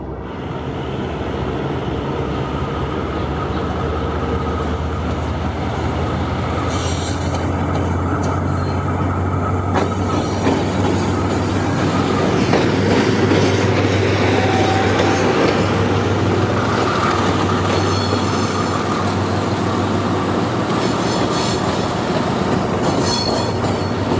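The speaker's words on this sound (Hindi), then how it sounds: "ब्रेक्स रिलीज़ किए हैं, एक विसल दी है और लोकोमोटिव जो है मूव करेगा।" A locomotive pulls away at Dozan railway station in Balochistan, a loud, steady, close rumble of engine and rolling wheels with squealing and rattling metal over a low drone throughout, with no clear talking.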